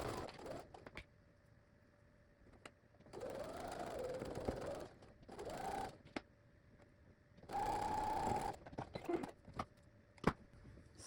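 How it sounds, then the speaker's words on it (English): A sewing machine chain-piecing quilt block pieces runs in several bursts of steady whirring stitching, close and moderately loud, separated by quiet pauses with small clicks and handling noises. "We're just going to continue sewing with the next piece, a 1/4 inch, and this piece."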